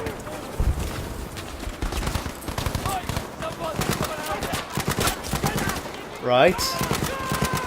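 Rapid gunfire in a World War II combat scene from Battlefield V, bursts of close shots and automatic fire crackling almost nonstop, with a brief spoken word partway through.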